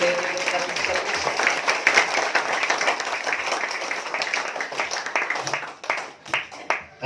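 A church congregation applauding, many hands clapping in a dense patter that thins into scattered individual claps toward the end, with a voice speaking over the clapping.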